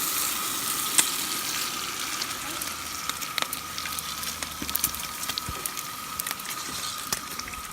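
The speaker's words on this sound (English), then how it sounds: "Listen to that bacon sizzle." Bacon sizzles steadily in a hot pan, with a continuous crackle broken by scattered sharp pops and spits.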